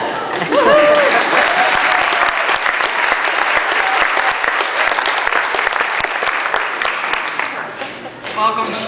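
An audience applauds a graduation speech at a school ceremony, loud sustained clapping with a brief voice-like tone near the start and a fading tail at the end.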